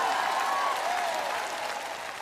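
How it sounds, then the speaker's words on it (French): A church congregation claps steadily throughout, a broad continuous wash of applause with a faint sustained tone running over it. "Vous feriez aussi bien d'applaudir et de crier."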